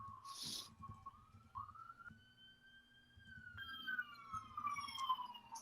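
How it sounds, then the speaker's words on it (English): City emergency sirens outside, a long rising and falling wail that carries across several seconds from a distance, joined by a second overlapping siren toward the end, with no talking. "Sirens all the time."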